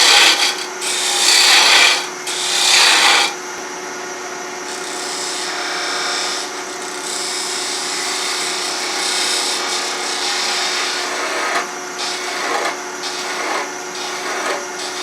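Walnut wood spinning on a lathe while a tool cuts away waste for a turned box lid, a loud continuous scraping hiss with two stronger rasping bursts early, then a steadier, slightly quieter cut.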